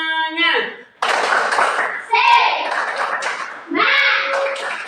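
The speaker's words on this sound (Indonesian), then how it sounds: "Mari kita tepuk semangat dulu." A class of schoolchildren doing a rhythmic spirit clap in a classroom, bursts of patterned hand clapping that alternate with a child's and others' voices calling out between the clap sequences.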